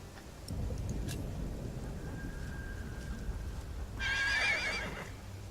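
A horse in a video game whinnies once, a short bright neigh standing out near the end over a quiet backdrop of faint ambient rumble and a thin steady tone.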